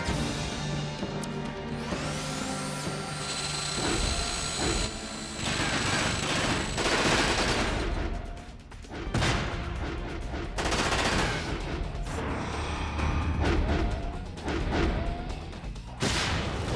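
Rapid mech machine-gun fire and heavy blasts roar continuously in Front Mission 5, with whooshing and crashing impacts layered over a dense battle soundscape; no talking.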